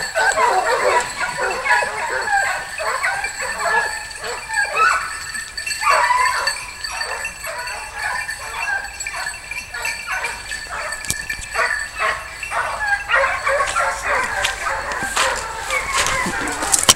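Fauve and Anglo hunting hounds bay and yip while chasing wild boar outdoors, a pack of irregular overlapping barks and whimpers at mid-distance, rising and falling over time.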